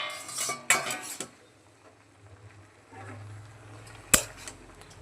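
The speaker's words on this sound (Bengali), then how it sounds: "এখন ঢাকনাটা খুলে শাকগুলোকে রেখে নেব।" Metal pot lid lifted off a pot of Malabar spinach greens on a Bengali home stove, then a utensil clinks and scrapes while stirring the greens, with a few sharp clanks near and a soft simmering hum between them.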